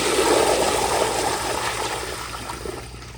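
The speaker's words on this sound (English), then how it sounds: "But here's another flush." A 1970s American Standard Baby Devoro toilet flushing nearby, with a loud rushing gush of water that gradually eases into a steady, softer draining flow.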